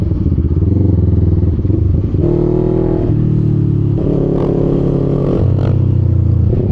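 FKM Falcon X400 two-cylinder motorcycle engine idling and revving up and down in steady steps, loud and close, with a deep throbbing rumble and no talk.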